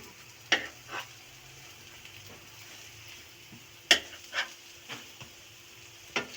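Semolina sandwiches cooking uncovered in a pan while being turned over: a faint, low sizzle runs under scattered light knocks and scrapes from the flipping.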